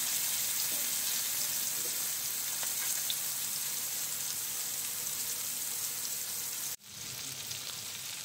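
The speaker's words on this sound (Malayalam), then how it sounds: "നമ്മൾ മാരിനേറ്റ് ചെയ്ത നമ്മുടെ മീൻ പതുക്കെ നമുക്ക് ഇട്ട് കൊടുക്കാം. അപ്പോൾ അതിനകത്ത് ഇട്ട് നന്നായിട്ടൊന്ന് ഫ്രൈ ചെയ്ത് വരട്ടെ." Marinated fish frying in a pan, a steady dense sizzle throughout, close and fairly loud, broken by a sudden drop near the end before the sizzling resumes more quietly.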